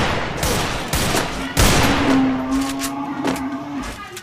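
Rapid gunfire bursts in the Free Fire video game during a round of attempted headshots, loud and dense with a sharp blast near the start and a sustained tone behind it.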